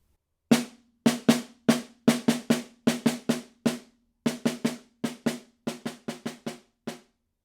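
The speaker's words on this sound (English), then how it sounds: "So the decrescendo for measures 13 and 14 will sound like this," Snare drum struck in a series of about twenty single hits across measures 13 and 14, each sharp crack with a short ringing tail, steady in rhythm and gradually softening from forte toward piano, heard alone.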